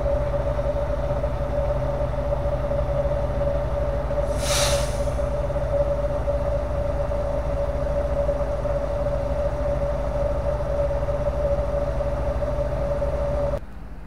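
A freight train rolls steadily past at Kadipiro station in Solo, a continuous loud rumble with a sustained high whine throughout and a brief hiss partway through, cutting off at the end.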